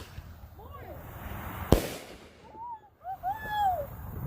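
Mini bomb fireworks set off outdoors, one sharp, loud bang near the middle against a low rumbling background, with people talking and exclaiming around it.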